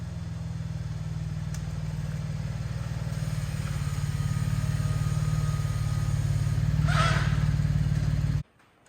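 Chevrolet Colorado ZR2 pickup engine running steadily as the truck pulls into a shop, a loud low continuous rumble that builds gradually, with a brief higher clatter near the end before cutting off abruptly.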